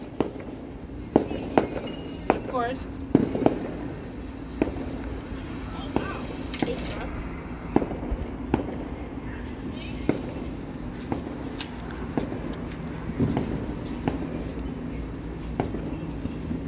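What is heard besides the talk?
distant fireworks on the Fourth of July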